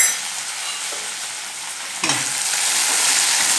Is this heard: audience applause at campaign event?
no